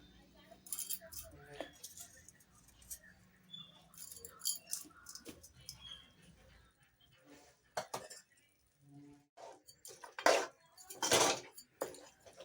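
A spoon stirring mutton curry in a metal pot, with scattered clanks and scrapes against the pot sides coming in irregular bursts, louder toward the end, while a voice talks quietly.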